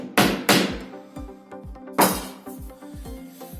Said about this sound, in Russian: Берем также гвоздик, заколачиваем.